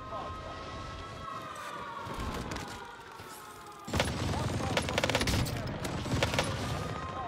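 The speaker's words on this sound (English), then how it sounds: "I hate that laser gun." Rapid laser-gun fire in Call of Duty Warzone, bursts of zapping electronic shots over tonal game effects, jumping louder and denser halfway through as the shooting intensifies.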